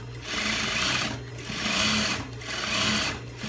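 Sewing machine stitching a fabric bag with a curved, hidden-pocket design, running in three close bursts of rapid needle chatter with brief pauses between them; someone says a few words during the stitching.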